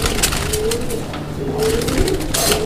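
Raj-golla pigeons cooing close by in a loose series of soft, low, throaty coos, steady throughout over a light background hiss.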